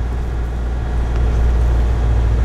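A steady, loud engine drone from inside a manual car moving at low speed in second gear, a continuous low rumble with no talk.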